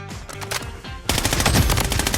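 Rapid bursts of MP5 submachine gun fire in the video game Blood Strike, loud and close, in a steady rattling stream that intensifies after a brief pause.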